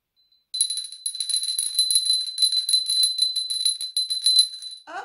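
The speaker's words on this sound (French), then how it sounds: "je fais tinter la cloche." A small bell shaken in a steady, continuous tinkling ring for about four and a half seconds, bright and close, with no talking.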